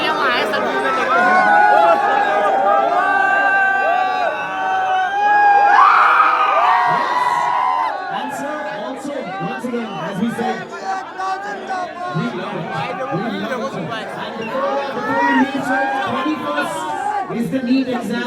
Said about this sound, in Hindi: आगे बहुत भीड़ है